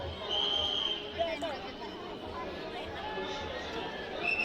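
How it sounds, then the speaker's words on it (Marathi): A huge crowd gathers at Bhima Koregaon for the 207th Shaurya Din commemoration, a steady, fairly quiet babble of many distant voices and movement with no single sound standing out. "भयानक अशी गर्दी"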